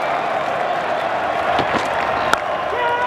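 A cricket stadium crowd roars and applauds as Australia wins a home Test match, a loud, continuous wash of cheering with scattered whoops, while a commentator's voice carries over it.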